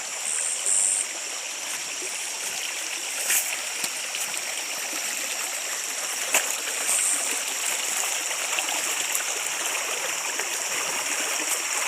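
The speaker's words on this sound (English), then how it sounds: "So this is the stream that was full of water" A stream runs full after heavy El Niño rains, a steady close rush of flowing water with occasional splashes and no break.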